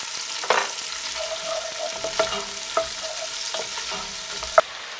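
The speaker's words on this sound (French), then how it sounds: "on va commencer par faire revenir nos oignons et notre ail dans l'huile d'olive" Onions and garlic fry in olive oil for a Cretan ratatouille, giving a steady close sizzle broken by several sharp scrapes and clacks of a utensil stirring the pan, with no talking.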